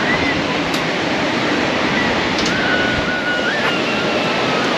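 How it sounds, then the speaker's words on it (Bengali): Strong wind roars steadily with surf breaking on Mandarmani beach, a continuous loud broadband wash with gusty microphone buffeting throughout and no pauses. "প্রচুর হাওয়া, খুব প্রচুর হাওয়া এখানে, মানে মনে হচ্ছে এসি ফেল,"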